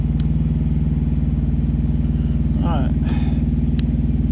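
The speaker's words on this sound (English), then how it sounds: "the generator's fixing to kick on for the truck" A truck generator on a Volvo VNL 780 runs with a steady, loud low-pitched drone and throbbing pulse, with a brief clatter partway through.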